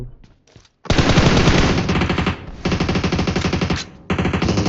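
Automatic gunfire in PUBG Mobile: loud, dense rapid bursts erupt after a brief quiet opening, with short pauses between volleys before firing resumes.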